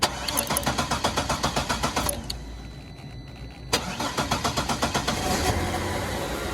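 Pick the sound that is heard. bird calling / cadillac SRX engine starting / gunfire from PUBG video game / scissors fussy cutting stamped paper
cadillac SRX engine starting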